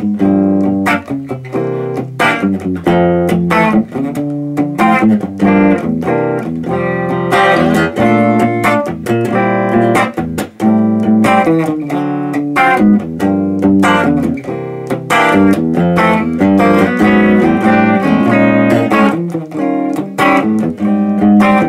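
Clean electric guitar strumming chords on the front pickup at a steady, moderate pace, bright and ringing with no distortion, played alone.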